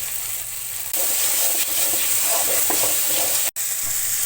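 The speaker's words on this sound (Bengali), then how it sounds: "তো মশলাটা সুন্দর কষানো হয়ে গেছে" Spice masala sautéing in a pan for bottle gourd curry, a dense crackling sizzle with soft stirring scrapes, close and steady apart from a brief dropout, no speech.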